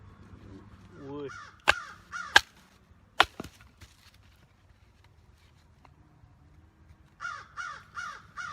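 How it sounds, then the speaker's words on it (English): A crow caws outdoors in repeated bursts of three or four harsh calls, one series early and another near the end, with a few sharp wood knocks in between. "Shut up, Crow!"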